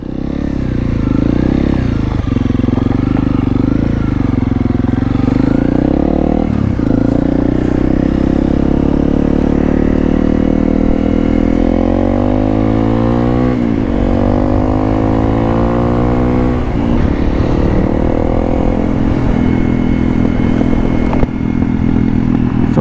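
Honda CRF 300L motorcycle engine held steady around 5000 rpm while riding, a loud continuous drone with shifting harmonics and slight rises and falls in pitch, close and unbroken throughout.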